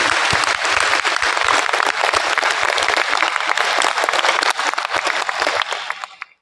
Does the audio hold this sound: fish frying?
no